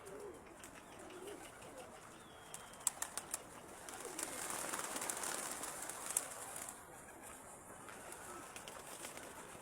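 Pigeons coo and flutter around a tower, a soft low cooing with a few sharp wing flaps, set against steady outdoor ambience with birds at moderate distance.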